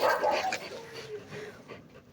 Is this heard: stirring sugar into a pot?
no